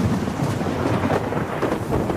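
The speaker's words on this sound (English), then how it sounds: "Querry stands, listening to the thunder, waiting for the lightning as the sky darkens." Thunder rumbles low and continuous under a darkening sky, a deep rolling growl mixed with a wash of rain, steady in loudness with no distinct cracks and no talking.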